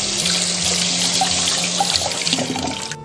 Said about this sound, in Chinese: 我们再次给它淘洗干净就可以了